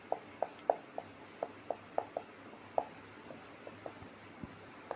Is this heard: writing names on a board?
yes